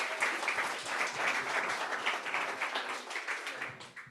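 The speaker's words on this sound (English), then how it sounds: "let's give a round of applause to all of the founders that have pitched tonight" An audience at a startup investment summit finale applauds the founders who pitched, with dense, steady clapping that carries on for several seconds before thinning out near the end.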